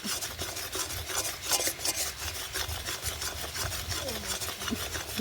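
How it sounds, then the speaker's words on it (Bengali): Date palm sap jaggery thickening and turning reddish in a pot is stirred continuously, giving a steady, close rasping scrape of the spoon against the pot with a soft background hiss. "এই করার মধ্যে অনবরত এরকম নাড়াচাড়া করে করে লালচে ভাব চলে আসছে"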